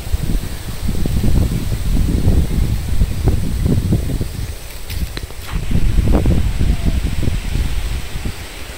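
Wind gusting through village trees on a stormy day, a steady rushing rustle of leaves and branches that swells and eases, close and fairly loud with no voices.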